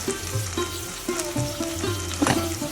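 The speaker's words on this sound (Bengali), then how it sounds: "এখন আমি সুন্দরভাবে পেস্টগুলো ভেজে নিব, যাতে পেঁয়াজের কাঁচা গন্ধটা না আসে।" Spice paste, onion and salt fry in a pan, making a continuous close sizzle with occasional stirring scrapes and a low tonal hum underneath.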